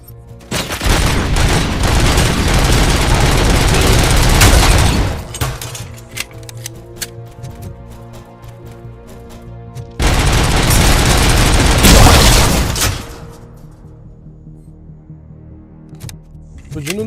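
Core explosion in the RoboCop video game: two loud, dense blasts of roaring, crackling destruction, each lasting several seconds with a rumbling tail, separated by a quieter stretch of lingering debris and low drone.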